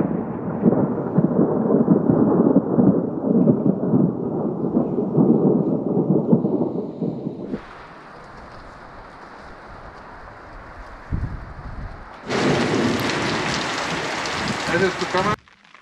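Steady rain pours with low rumbling thunder near a volcano, for several seconds, then the roar drops away to a quieter hiss before a bright burst of rain returns.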